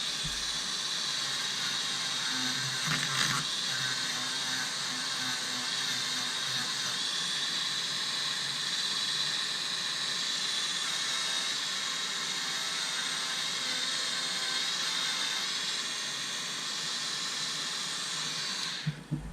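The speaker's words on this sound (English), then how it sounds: "Green Scotch Brite pad on a Dremel." A Dremel rotary tool fitted with a green Scotch-Brite pad polishes a part on a Hornady AP primer system, a steady high whirring hiss running continuously and close for nearly the whole stretch before cutting off at the end.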